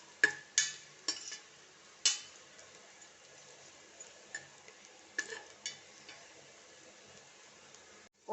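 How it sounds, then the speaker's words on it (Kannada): Frying in a pressure cooker while making ghee rice, with a series of sharp clicks and scrapes from stirring over a faint low sizzle, spaced irregularly through the stretch. "ನಾನು ಕುಕ್ಕರಲ್ಲೇ ಫ್ರೈ ಮಾಡ್ತಿದ್ದೇನೆ"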